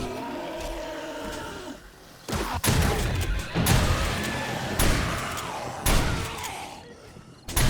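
Shotgun blasts in 7 Days to Die, four or five heavy booming shots spaced a second or so apart, loud and close, over a rumbling background of zombies and game noise.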